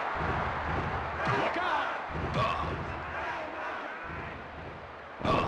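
A crowd in the wrestling video game WWF Warzone keeps up a loud, steady roar throughout, broken by slams and thuds from the ring, while a voice speaks briefly over it.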